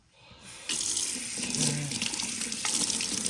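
Water from a tap runs steadily onto parts of a De'Longhi Stilosa EC260BK espresso machine being rinsed in a sink, starting after a brief quiet moment and continuing as a close, even splashing rush.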